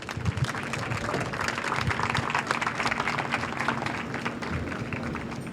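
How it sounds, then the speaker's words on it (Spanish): An audience claps at a book presentation, a steady, moderately loud round of applause filling the room throughout. "Muchísimas gracias, un aplauso."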